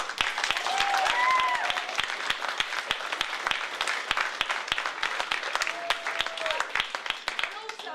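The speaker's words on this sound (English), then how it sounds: "can we give Sean and Nick a fabulous round of applause on the technical?" A round of applause from a theatre audience for the technical crew, brisk overlapping claps with sharp individual hands close by, while cheers and voices rise over the clapping in places.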